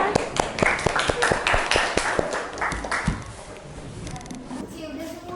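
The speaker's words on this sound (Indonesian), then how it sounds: "Boleh tepuk tangan dong untuk kita semua." A class of students clapping, scattered uneven claps for about three seconds that thin out and fade, with voices talking nearby.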